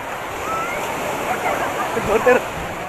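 Waves wash steadily onto the sand at Baga Beach in Goa, a broad continuous surf roar close by, with a brief louder splash near the end and voices faintly mixed in.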